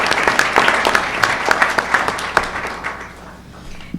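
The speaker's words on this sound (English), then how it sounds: "Let's give them another round of applause, another outstanding group tonight." Applause for students at a county school board meeting rings out in a room, fairly loud with distinct individual claps standing out, tapering off after about three seconds.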